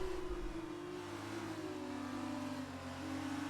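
An F1 race car engine in a video game drones steadily with a high, sustained whine throughout, heard faintly through a TV speaker with no talk.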